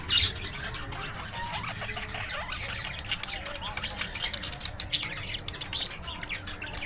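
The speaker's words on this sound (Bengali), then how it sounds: "আর এই পাশে কিছু পাখিও রয়েছে" Birds squawk and chirp in a park aviary at Digha Amaraboti Park, with repeated sharp calls over a steady bed of crowd murmur and people talking nearby.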